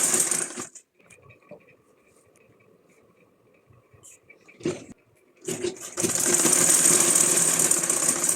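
Sewing machine stitching a cloth bag, with short bursts of machine clatter, quiet pauses with faint mechanical ticks, and then a loud sustained run of fast stitching near the end.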